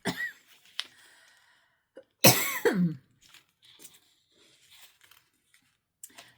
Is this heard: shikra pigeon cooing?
no